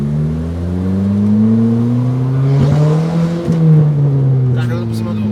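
Stage 2 Fiat Bravo with a 1.8 Tritec engine revs loudly and steadily from close by, its pitch climbing and dipping over several seconds with a brief fall midway, as if heard from inside the car while driving.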